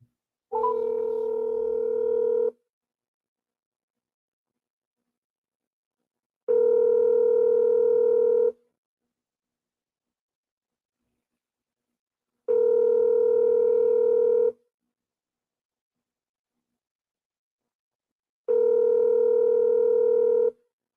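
A telephone ringback tone repeats four times as a call is placed, each steady electronic buzz lasting about two seconds and separated by roughly four seconds of silence.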